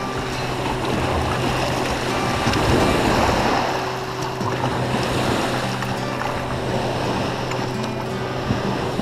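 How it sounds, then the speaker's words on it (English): A homemade barrel boat camper pushing through rough waves, with a loud continuous wash of water and wind rumble swelling briefly midway, close to the microphone and without speech. "Almost had waves come over the back."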